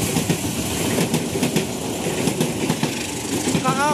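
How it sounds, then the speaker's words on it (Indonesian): The long-distance train KA Bangun Karta, running Pasar Senen to Jombang, passes through Kramat station with a loud, close rumble and repeated clickety-clack of wheels over rail joints, ending with faint wheel squeal. "akhirnya dapat juga kereta api jarak jauh melintas di stasiun Kramat"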